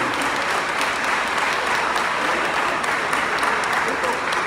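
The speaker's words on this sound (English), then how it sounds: "If you would please give them another round of applause" Loud, dense applause from an audience at a school gathering, continuous throughout with no pauses, close and even in level.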